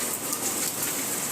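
Steady rain falls as the first shower of the season at a home, a dense, even hiss of drops hitting surfaces with no breaks, fairly close and continuous throughout.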